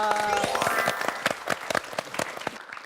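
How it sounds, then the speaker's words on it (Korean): Studio audience claps at a television show recording, starting as a blended burst and thinning into scattered individual claps that fade out. "박수 보내드립니다."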